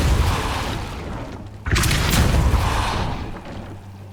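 A Depulso force spell cast in Hogwarts Legacy lets out a loud booming whoosh that surges suddenly and holds as a dense roar for a couple of seconds.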